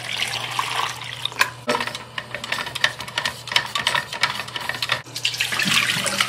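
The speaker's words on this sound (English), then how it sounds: "So next step is the wash. And wash the film like this." Water runs and splashes while colour film is washed during push development, with uneven sloshing and agitation bursts and a steady faucet-like flow, fairly close and without talk.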